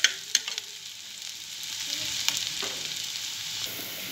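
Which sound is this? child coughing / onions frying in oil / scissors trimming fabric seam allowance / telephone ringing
onions frying in oil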